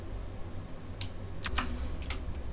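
Several sharp computer keyboard clicks, including the delete key, sound in quick succession, fairly close and crisp against a low hum of room noise, with no talking.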